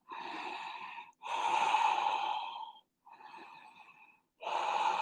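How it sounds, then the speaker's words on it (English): Deep, drawn-out exhaling breaths during a yoga forward fold, four long breathy pushes of air separated by short silences, close and fairly loud with no talking. "Deep exhales."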